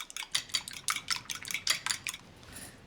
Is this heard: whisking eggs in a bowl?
yes